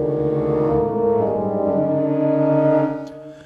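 Vienna Symphonic Library Synchron Woodwinds play a sustained espressivo cluster chord, a thick, reedy, droning blend of stacked notes that swells gently and then fades out near the end.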